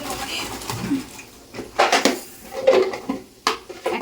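Empty kitchen storage containers, probably metal or plastic tins, clink and knock as they are handled and set in place during grocery organizing, with several sharp bursts of clatter separated by quieter pauses.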